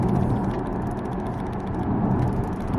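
Inside an Audi A7 with the 50 TDI engine and 21-inch wheels, a steady broadband rumble of engine and road noise runs while driving, continuous and fairly even, with no talking.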